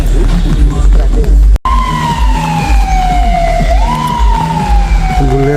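A police car siren in Suriname wails over loud traffic rumble and nearby engine noise, its tone sliding slowly downward as the vehicle passes close by.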